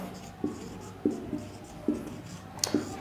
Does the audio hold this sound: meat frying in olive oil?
no